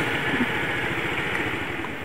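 A small underbone motorcycle engine runs steadily nearby, a low throbbing putter at a constant pace.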